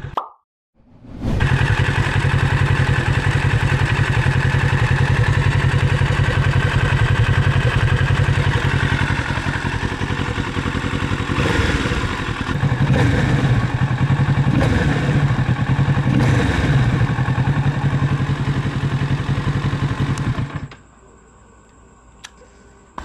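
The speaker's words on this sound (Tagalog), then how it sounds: "malapit sa kanyang exhaust, ganyan yung magiging tunog niya" A Kawasaki Z650RS motorcycle idles right by its exhaust, a loud, steady, rapid lumpy putter that runs for about twenty seconds with a few light clicks over it, then cuts off abruptly to quiet.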